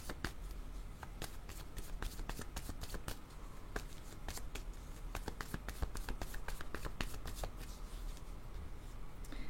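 Tarot cards being shuffled by hand, a steady run of crisp riffling clicks and soft slaps that carries on without a break for the whole stretch, close and fairly quiet.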